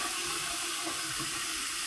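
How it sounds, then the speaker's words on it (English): A steady, soft rush of running water, as when wetting a leg before shaving, continuous and unbroken with no voices. "So put a little bit of water on it."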